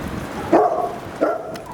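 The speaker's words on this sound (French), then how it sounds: "des chiens courants français tricolores" French tricolour hounds at the Château de Cheverny kennels give two loud, close barks about two thirds of a second apart, with no talking.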